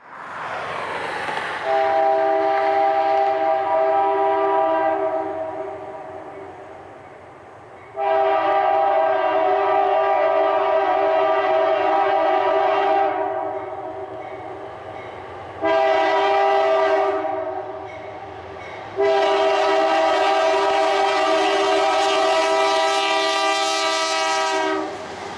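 BNSF freight train passing on the Hinckley Subdivision, led by fake-bonnet locomotive 4704 with 1833 third out: four loud, sustained horn blasts, the middle ones shorter, over a steady rumble of engines and rolling cars.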